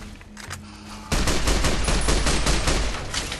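An automatic weapon in Fallout: New Vegas opens up after a quieter second, then rattles off a long, continuous stream of rapid shots, loud and close.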